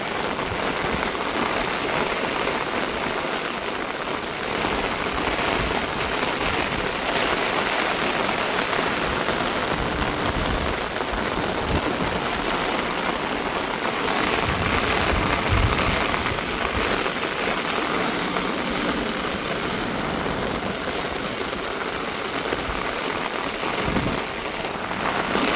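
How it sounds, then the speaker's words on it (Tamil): Heavy pouring rain with strong wind at a seaside fishing area near Chavakachcheri market in Jaffna, a dense continuous hiss of downpour over surfaces, steady and loud throughout with occasional deeper gusts. "மழை வந்து பயங்கரமாக பெய்யுது."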